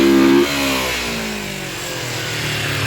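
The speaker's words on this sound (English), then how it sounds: "not bad for a 39-year-old motorcycle" A 1986 Kawasaki 250R motorcycle engine revs briefly, then drops into a steady, close running drone with rough low-frequency pulsing.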